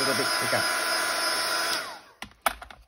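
A handheld heat dryer blows a steady, loud whirring airflow for about two seconds while drying a homemade rub-on, then switches off, followed by a couple of faint clicks and handling noises.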